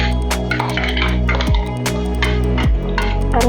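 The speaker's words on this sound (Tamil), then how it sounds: "இப்போ நம்ம ஜார கழுவி அப்படியே சேர்த்துக்கலாம்" Rinse water from a mixer jar is poured into ground masala for mutton trotter paya, giving a few soft drips and splashes over steady background music.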